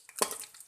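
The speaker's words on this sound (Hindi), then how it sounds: "इसे फ्राई होने देंगे। 3 से 4 सुरख मिर्चें डाल देंगे साबुत।" Whole dried red chillies hit hot oil in a pan, giving a short, close sizzle with a quick burst of frying crackle that settles into a faint hiss.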